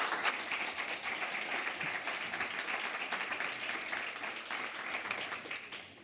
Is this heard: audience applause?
yes